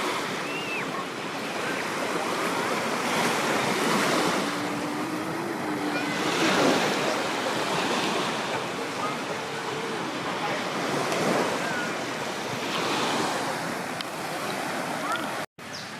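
Ocean waves roll onto Crystal Bay beach on Koh Samui in the Gulf of Thailand, a loud steady surf wash with periodic swelling breakers and some wind buffeting the microphone.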